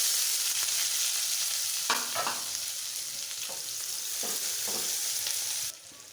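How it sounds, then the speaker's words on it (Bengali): Chopped onions frying in the same oil just used to fry hilsa fish, a steady close sizzle with a few stirring scrapes, cutting off near the end. "পেঁয়াজটা ভেজে নিচ্ছি।"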